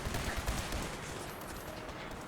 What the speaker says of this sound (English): Mow down the Brotherhood with laser pistol here